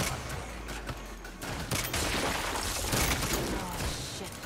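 A dense, continuous barrage of gunfire from the Saints Row video game, with overlapping shots and booms filling the space, loud and close, with voices faintly mixed in.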